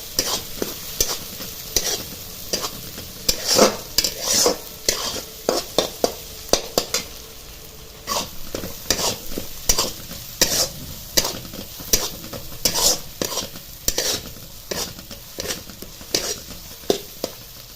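Roasted masala spices are sautéed in a pan with a utensil scraping and knocking against it in a quick, repeated rhythm over a light sizzle, loud and close, with no speech.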